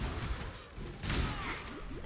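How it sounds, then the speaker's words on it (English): Ice smashing from the Herald of Ice skill in the video game Path of Exile, a burst of crashing, shattering swooshes that swell and fade over about two seconds amid ongoing game noise. "I just like the sound of the smashing ice."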